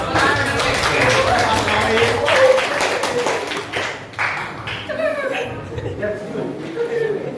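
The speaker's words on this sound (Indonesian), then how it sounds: "Tepuk tangan dulu." A small group claps hands briefly at a gathering, a loose patter of claps mixed with chatter and light laughter throughout.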